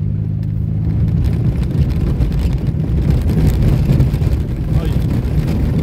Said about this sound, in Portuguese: O carro sacode até a alma.